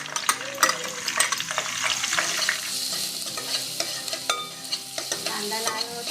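Onion fries in hot oil after curry leaves for a Malvani sprouted horse gram curry, giving a continuous close sizzle with frequent stirring scrapes and light clinks against the pan, no talking.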